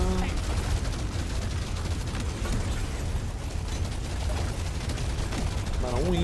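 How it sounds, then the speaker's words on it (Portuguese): Weapon gunfire in the video game Deep Rock Galactic Survivor, a dense, continuous clatter of rapid shots and bursts at steady loudness throughout, with mechanical whirring mixed in. "Tiro da arma."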